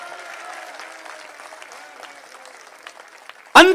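Audience clapping at a Hindi kavi sammelan poetry recital, a thin scattered patter of applause under a faint background voice, ending in a sudden loud burst of sound.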